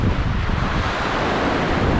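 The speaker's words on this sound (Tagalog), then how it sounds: "Parang ang lalaki masyado ng alon." Large ocean waves breaking at a beach resort in Caysubic, a loud, continuous wash of surf with heavy wind rumbling across the microphone, no voices.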